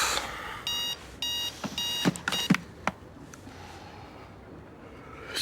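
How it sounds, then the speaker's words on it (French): An alarm clock rings in repeated bursts of bright electronic beeps, first in a regular rhythm and then broken off by a few sharp knocks before it stops, leaving a quiet room. "Le réveil, vas-y, éteins."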